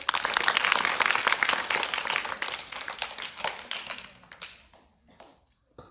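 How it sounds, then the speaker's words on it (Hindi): Students in a government school classroom in Bihar applaud a correct quiz answer: a burst of dense, loud clapping that thins out over a few seconds into scattered last claps before falling quiet. "सही जवाब, ताली बजाइए।"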